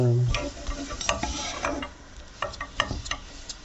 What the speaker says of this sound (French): je vais cuire un petit peu la pâte.